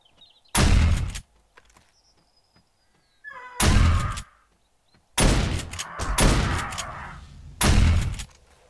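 Gunfire in the PC video game 7 Days To Die, version A16 with the War of the Walkers mod: four loud, close blasts spaced a second or two apart, one followed by a longer rumbling burst, separated by near silence.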